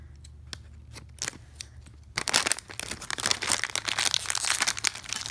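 A LEGO Movie 2 minifigure blind bag is snipped open with scissors, a few sharp cuts followed by a burst of loud plastic crinkling and rustling close up.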